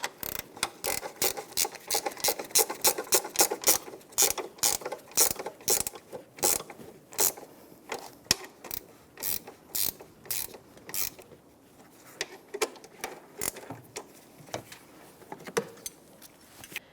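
A ratchet fitted with a 13mm socket snugs the strut bolts on a 2009-2014 Nissan Maxima, a close, crisp run of rapid clicking strokes that keeps a steady rhythm before slowing into spaced bursts.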